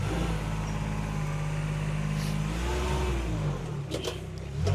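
A 2009 Kubota RTV1140 CPX four-seat diesel UTV with a 72-inch power angle blade, driving in reverse: a steady, loud diesel engine drone with a shift in pitch partway through, alone without talk.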